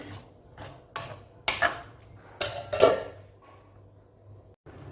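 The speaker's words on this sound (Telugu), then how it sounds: "ఇప్పుడు మూత పెట్టేసుకుందామండి" A metal lid goes onto a cooking pot of gongura meal maker curry, giving several sharp clanks and rattles in quick succession, then a quiet pause.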